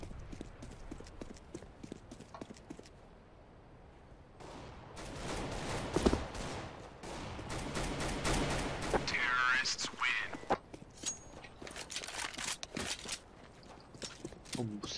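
Gunfire in Counter-Strike: Global Offensive during a competitive match, rapid bursts of shots amid footsteps and game noise, with someone talking in Turkish over the action.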